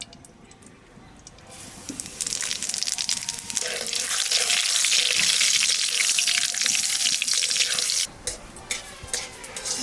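Dried red chillies and radhuni spice dropped into hot oil, bursting into a loud, steady sizzle and crackle that holds for several seconds before easing into lighter spitting.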